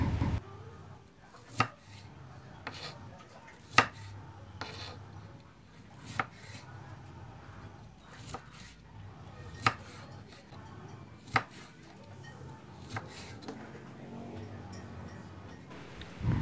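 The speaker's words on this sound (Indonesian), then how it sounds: "Selanjutnya, potong-potong tomat hijaunya selera saja." A knife chops green tomatoes on a cutting board for a tongseng-style dish, giving sharp, evenly spaced taps every second or two against a quiet kitchen background, with no talking.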